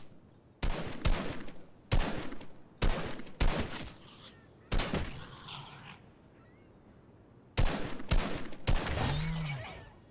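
Gunfire aimed at a wild boar in Fortnite: loud, close bursts of rapid shots in several separate volleys with short gaps, ending in a longer spray of fire mixed with game effects.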